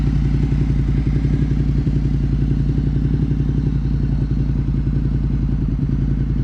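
Motorcycle ridden slowly on a first lesson with just a little throttle, steady low engine chug and clatter throughout, close and continuous, no talk.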